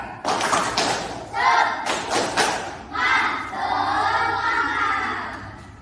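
A class of children repeats a rhythmic clapping chant more loudly, bursts of group claps punctuating energetic unison chanting voices, close and lively in a classroom.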